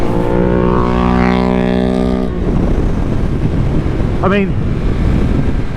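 Stock Yamaha R1 road bike converted for the race track, its engine holding a loud, steady high-revving note that drops off abruptly, leaving rushing wind noise with a brief voice.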